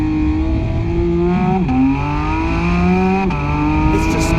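A Porsche 911 GT3 engine revs hard under full throttle through a corner, its loud rising howl dipping briefly at two quick shifts before climbing again.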